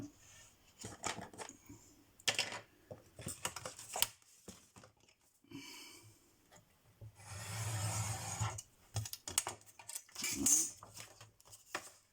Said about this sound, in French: je vais couper avec mon cutter, parce que sinon la pochette sera trop longue